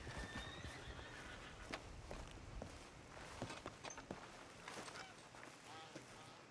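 Horse whinnies and clip-clopping hooves in the RedM video game, a neigh rising over steady hoof steps against a busy background, with speech mixed in.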